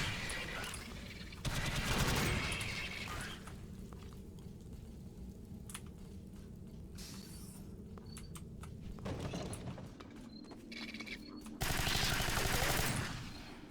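Automatic gunfire in a shooter video game played over cloud gaming, in bursts of rapid fire with quieter stretches between them.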